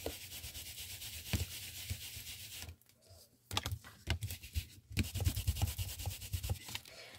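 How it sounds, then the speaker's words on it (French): Scrubbing and rubbing on a rubber stamp being cleaned during card making, a steady close scratchy friction that pauses briefly midway, then resumes with irregular strokes. "je vais nettoyer mon tampon"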